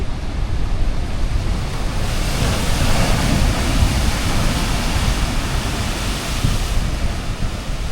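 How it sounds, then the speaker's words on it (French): Ocean surf pounding a wild southern coastline, a loud continuous wash of breaking waves with a heavier crash swelling around the middle, steady and close, without voices. "Regarde la vague."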